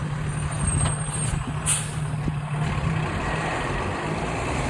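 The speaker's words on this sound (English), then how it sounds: "quite a bit of traffic on this street" Street traffic with a truck passing close by, a loud continuous engine rumble with a hiss of air brakes and brief high beeping, steady throughout.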